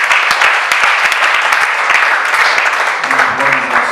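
A church congregation claps to acclaim the Lord, a loud, steady burst of applause filling the room, with a few voices rising near the end.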